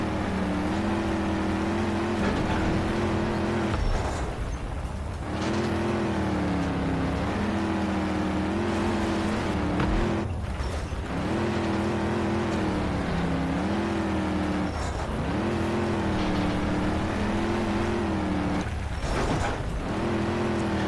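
A car driving in the video game Trail Out, a dense, steady engine drone that climbs in pitch as it revs up through the gears, then drops back at each shift or lift, repeating for the whole stretch with no talk over it.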